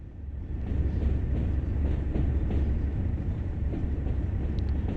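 A coal train in Train Sim World's Tees Valley Line rumbles along steadily, a dense low rolling roar with faint rail clatter that swells after the first second and holds, with no talk over it.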